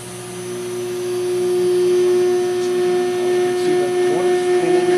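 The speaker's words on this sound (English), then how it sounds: "and then we'll have the motor running" A vacuum motor on a test run hums with a steady tonal whine that swells slightly as speed is increased, fairly loud and close, with faint voices under it.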